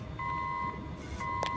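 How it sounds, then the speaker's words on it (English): An alarm going off in a video game, short electronic beeping tones over a steady background hum. "Oh, he's hit the alarm."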